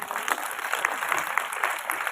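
Audience applause at a school Independence Day (15 August) function, a steady patter of many hands clapping throughout the short stretch, moderately loud and fairly close.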